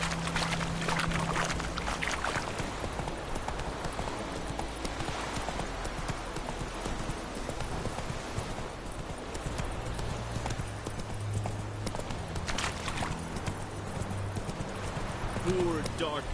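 Hoofbeats of a horse trotting steadily in The Witcher 3 on PS4, a continuous clip-clop rhythm under game music and ambience, with a voice speaking briefly.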